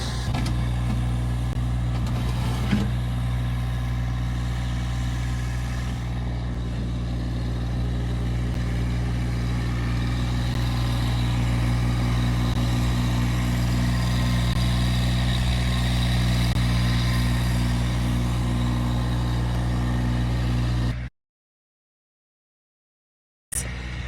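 A tractor engine runs steadily at a low, even drone for about twenty seconds, close and constant, then cuts to silence briefly near the end; no talking.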